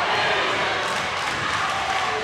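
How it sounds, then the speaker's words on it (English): A basketball gym crowd at a women's college game, NU Lady Miners against Sacramento Dragons, shouts through a late timeout as a steady, dense roar of voices fills the hall without letting up. "there is a shouting match going on in the gymnasium from left to right corner"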